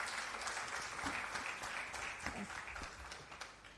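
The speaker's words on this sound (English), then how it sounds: "she deserves a special round of applause for this." Applause from a conference audience at a hotel, a soft, steady patter of many hands that stays at an even, moderate level for the whole stretch.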